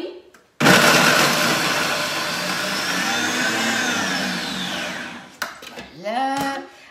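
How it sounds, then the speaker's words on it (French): A food processor on turbo chops parsley, carrots and garlic with a loud, close whirring roar for about five seconds, its pitch shifting as the pieces break down, then stops abruptly before a voice speaks briefly. "Et je vais mettre ça directement sur turbo. Ça va faire un peu de bruit."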